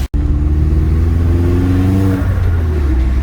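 Vauxhall Astra VXR engine fitted with a Forge recirculation valve, revving loud and close with a steady low drone, then the pitch drops as the revs fall back.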